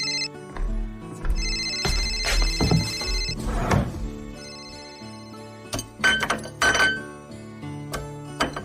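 A telephone rings with an incoming call inside a home, its repeated tones sounding over a music bed with a few soft knocks, and no one speaking.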